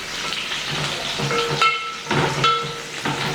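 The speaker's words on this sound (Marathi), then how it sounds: "आपला लसूण फ्राय होतोय ना, त्या स्टेजवर थोडासा कढीपत्ता घालूया" Garlic and curry leaves fry in hot oil in a pan, a steady close sizzle with crackling bursts and spitting pops as the leaves hit the oil.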